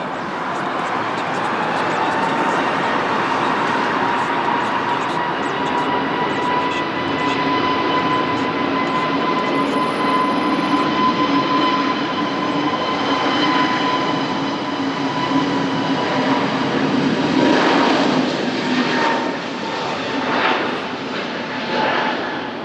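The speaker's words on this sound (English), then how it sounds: "We have a TAP Air Portugal A313E on short final" TAP Air Portugal Airbus A330 on short final at Lisbon Airport: a sustained whining jet engine drone with steady tonal hums, growing rougher and louder near the end as the airliner passes close.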